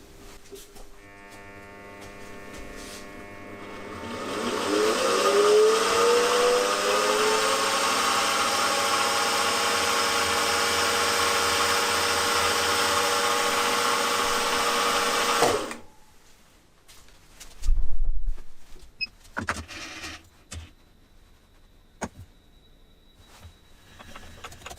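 A drill runs on metal in a workshop, centre drilling and then drilling with a 2.1 mm bit for a model hit-and-miss engine fuel tank, a steady whine for about ten seconds with a rising pitch sweep, then stopping, followed by scattered clicks and knocks.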